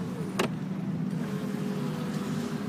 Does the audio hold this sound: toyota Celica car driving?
yes